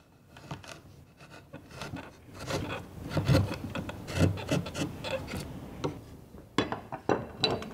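Fine hand tools carve a wooden block for a Spanish-style polychrome sculpture, giving soft, irregular scraping and rasping strokes with occasional light clicks, close and fairly quiet.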